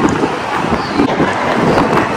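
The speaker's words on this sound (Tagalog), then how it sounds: "Naku, masyadong mahangin guys. Pasensya na kung mahangin." Gusty wind buffets the microphone with a loud, rumbling roar, steady throughout and close, masking any other sounds, at an outdoor spot in Hong Kong.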